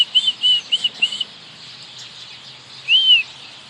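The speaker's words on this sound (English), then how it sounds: "Can you hear my birds?" Wild birds at a feeding spot give a quick series of high chirps, followed after a short pause by one more call, close and clear against faint background noise.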